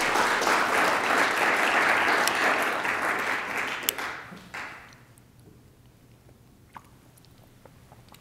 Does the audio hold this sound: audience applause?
yes